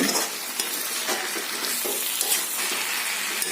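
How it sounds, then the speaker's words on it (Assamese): Mawa fries in a pan for chicken curry, giving a loud, close, continuous sizzle broken by repeated scraping stir strokes, with no voices. "মাৱাখিনি দি পেলাই বেছি ভাজিব নালাগে অলপমান ভাজিলেই হ'ল"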